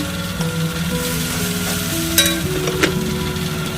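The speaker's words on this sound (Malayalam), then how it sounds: "തക്കാളി ഉള്ളിയുടെ കൂടെ ഒന്ന് വഴയട്ടെ കേട്ടോ." Tomato and onion sautéing together in a pan, a loud continuous sizzle with a steady hum underneath and a couple of brief scraping stirs, with no talking.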